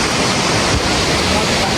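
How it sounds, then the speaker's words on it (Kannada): Jog Falls waterfall roaring: a dense, steady rush of falling water fills the whole moment, loud and close, with no break in the roar. "ಜೋಗ ಜಲಪಾತ ತೋರಿಸ್ತೀನಿ ಬಾ"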